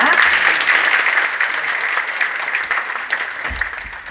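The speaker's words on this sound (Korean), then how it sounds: "여러분 다시 한번 큰 박수 부탁드립니다" Audience applause at a multicultural choir contest, a full burst of clapping from a large crowd that stays strong and gradually thins toward the end.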